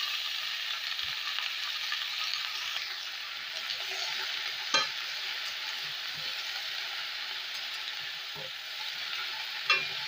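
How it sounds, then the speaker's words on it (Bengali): Okra frying with onions and green chillies in a pan gives a soft, steady sizzle, with occasional light knocks from stirring. "পেঁয়াজটা একটু ভাজা ভাজা হতেই এর মধ্যে দিয়ে দিচ্ছি আমি ভেন্ডি।"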